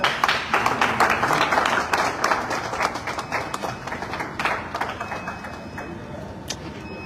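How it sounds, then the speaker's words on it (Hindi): A crowd applauds at a car delivery ceremony with dense, continuous clapping that stays fairly loud and then gradually thins toward the end, with no clear talk over it. "जोरदार तालियां हो जाए।"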